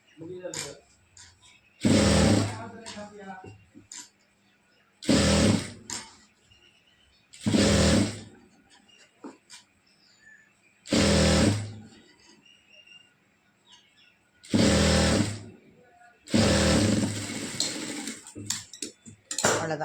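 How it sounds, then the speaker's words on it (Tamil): A sewing machine stitching the hem of a chudidar pant runs in repeated loud bursts of whirring, each a second or two long, with quiet gaps of handling noise in between. "தையல் போட்டாச்சுங்க"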